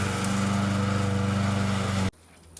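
A lawn mower runs steadily in close range while cutting grass on a farm property, its engine drone loud and even for about two seconds before cutting off abruptly into near silence.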